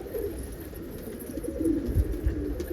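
Homing pigeons coo softly on a warm afternoon, low murmuring calls overlapping in a loft with a few louder coos near the end and no talking.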